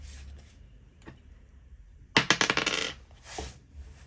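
Dice clatter down through a dice tower during a savings-challenge game, a quick burst of rattling hits tumbling and settling in about a second after a quiet stretch with faint soft handling sounds.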